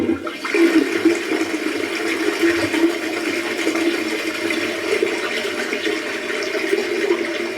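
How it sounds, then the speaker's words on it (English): A toilet flush heard through noise-cancelling earbuds, a steady rushing swirl of water running loud and continuous for the whole stretch with no voices. "Toilet flush."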